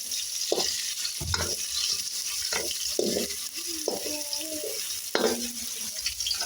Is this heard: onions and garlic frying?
yes